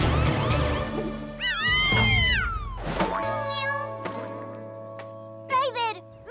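Cartoon kittens meow repeatedly in high, wavering cries, mixed with animated voices and music, loud and close.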